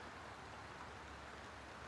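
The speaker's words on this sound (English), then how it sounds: "It started raining on me" Rain falling outdoors at a beehive: a steady, dense, faint hiss of rainfall with no clear breaks and no voices.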